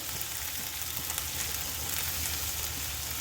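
Garlic fries in a pan for a vegetable spring roll filling, a close, even crackling sizzle that holds steady throughout with light stirring, and no voices.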